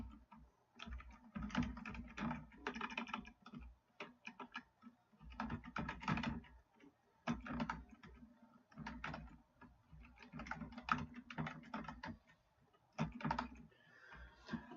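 Steady keyboard typing while a host name is entered on a sign-up page, with bursts of close key clicks broken by short pauses and no speech.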